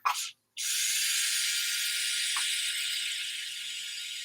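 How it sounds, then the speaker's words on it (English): A dental handpiece spins a burr at reduced speed on plastic during root canal glide path work, giving a steady, fairly loud whirring whine that starts after a brief burst and holds to the end, with a small tick midway. "I've slowed it down because it's only plastic, so we don't need to spin this burr pretty quick"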